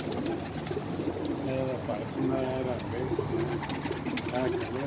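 Several pigeons coo at a pigeon loft in low, repeated burbling phrases amid a noisy background, with people talking at a distance.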